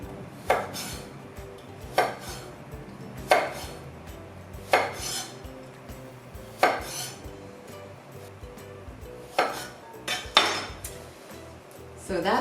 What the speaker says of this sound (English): So that's it, all the carrots going into the pot.